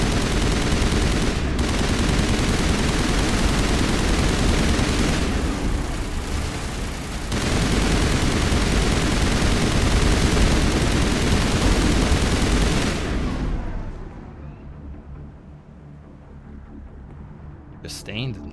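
Sustained turret gunfire in the Mass Effect video game, a dense, loud barrage running for about thirteen seconds with a brief lull partway through, then cutting off to quieter game ambience and a faint late burst.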